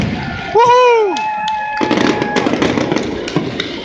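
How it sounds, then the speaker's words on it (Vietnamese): Fireworks during an Independence Day celebration in Charlotte, North Carolina: a loud whistling rocket rises, then crackling and popping bursts follow, close and sharp. "The fireworks been going on like 30 minutes already."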